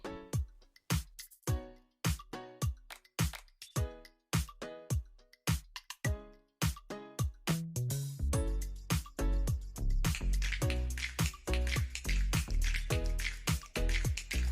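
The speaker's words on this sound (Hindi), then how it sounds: "तो अब ये पानी हमारा बॉईल हो गया," Water in a pot for zarda sweet rice, with yellow food colour and green cardamom added, starts as sparse, sharp drips and bubbles, then swells into a dense, continuous bubbling roar, close and loud.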